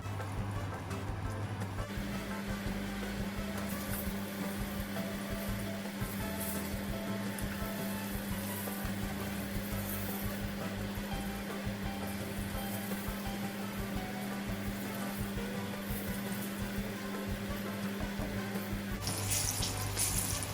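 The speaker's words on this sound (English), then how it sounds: "Then pop it into the heated oil." Potato-starch-coated tofu pieces frying in hot vegetable oil in a frying pan, a steady close crackling sizzle that holds evenly for about twenty seconds with a low hum beneath it.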